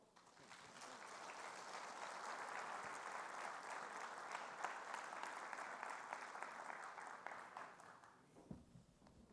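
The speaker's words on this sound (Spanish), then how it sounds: "Démosle un caluroso aplauso y bienvenida" An audience at a legal conference applauds to welcome a speaker, a dense, sustained clapping that holds steady for several seconds before dying out near the end, heard from within the hall.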